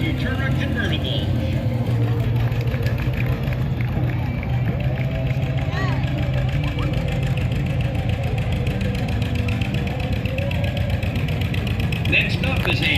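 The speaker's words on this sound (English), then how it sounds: "Our next entry, coming to the judges' stand, driven by Elvin Green, is a 1963 Ford Falcon Futura convertible." A 1963 Ford Falcon Futura convertible idles at a town parade, its steady mid-pitched engine rumble running continuously under a public-address announcer and crowd murmur.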